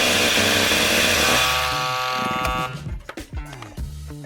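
A chainsaw cutting into a tree trunk during felling work with wedges, roaring loud and high-revving for about two seconds before the engine winds down to a lumpy, sputtering idle.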